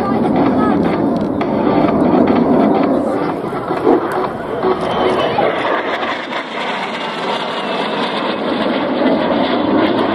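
A Swiss Air Force F-5E Tiger II jet of the Patrouille Suisse roars past at an airshow, a loud sustained jet rumble and hiss that swells and slowly fades.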